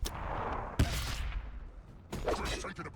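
Gunfire from an Ork war boss in a Warhammer 40,000: Battlesector tournament match against Tyranids, with a sharp close shot followed by a second volley of rattling bursts, heard over a low battlefield rumble.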